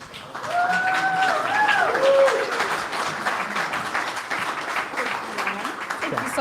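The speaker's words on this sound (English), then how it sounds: "Another round of applause for Jan" An audience at a tech talk bursts into sustained applause, a dense wash of clapping that holds steady for several seconds, with a whoop and voices mixed in.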